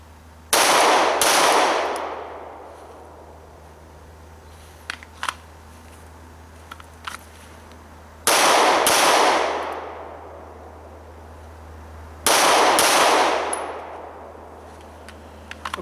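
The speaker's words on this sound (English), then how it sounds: "I'm just going to do a couple of presentations, a couple of shots to center mass" Three loud, sharp Glock 19 handgun shots fired at a cardboard center-mass target, spaced several seconds apart, each ringing out with a long decaying echo over a steady low background hum.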